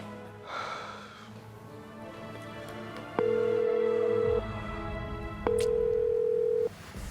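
An unanswered phone call's ringback tone: two long, steady beeps separated by a pause, heard fairly loud over soft background music in a drama scene.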